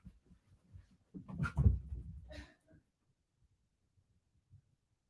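Dogs moving around close by, with a short burst of panting, breathy whimpering and shuffling lasting about a second and a half, then near silence with faint scuffs.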